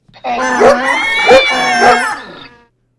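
A donkey, dog, cat and rooster cry out at once in a loud, harmonic, howling chorus, swelling in three surges over about two seconds.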